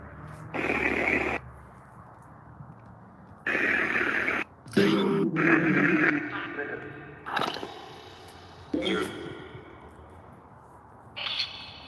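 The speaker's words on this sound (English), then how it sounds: "I'll put white noise on." White noise from a device in a haunted church ruin comes in hissing bursts of a second or two that start and stop several times, with people talking quietly between them.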